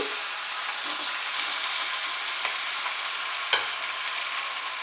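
Chicken mince frying in a pan over medium heat, a steady close crackling sizzle with occasional sharp pops and light stirring scrapes, continuous and even, with no voices.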